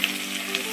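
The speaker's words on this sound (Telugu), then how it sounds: "ఇప్పుడు మనం దీంట్లో ఆనియన్స్ అయితే వేసుకుందాం." Onions frying in hot oil for chicken haleem, a short continuous hiss of sizzling with two faint crackling pops, close and steady with no voices.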